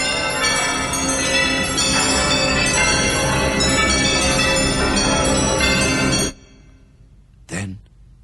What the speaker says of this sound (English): But soon it rang out loudly, and so did every bell in that huge empty house.